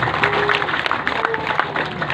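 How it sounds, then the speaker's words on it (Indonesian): Audience applause at a large consolidation and halal bihalal gathering, a steady wash of many hands clapping throughout, with a faint voice or tone running underneath. "Tepuk tangan buat mereka semua"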